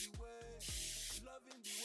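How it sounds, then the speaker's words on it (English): Edge booster hair spray hisses out in several short bursts, close and fairly soft, broken by brief handling sounds with no talking. "spray it down. This is the edge booster."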